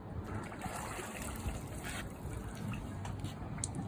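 Water trickles and pours steadily into the priming port of a self-priming pump, a faint continuous splashing dribble over the whole stretch with no voices.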